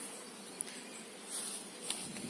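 A honey bee swarm at an apiary gives a faint, steady insect buzz, soft and somewhat distant, with no voices over it.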